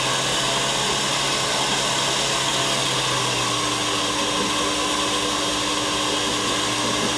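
A WD-40-lubricated drill bit bores a hole, giving a loud, steady whine and grind that holds without pause throughout.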